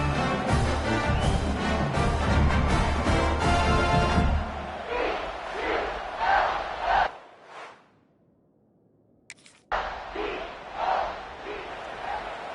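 Stadium crowd roaring and cheering in a college football video game during a home-team blowout against Fresno State, loud and sustained, fading out into near silence before the crowd noise returns.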